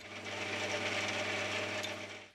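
Metal lathe turning down a 40 mm steel bar in a workshop, a steady continuous hiss and whir of cutting with a low motor hum, close and unbroken.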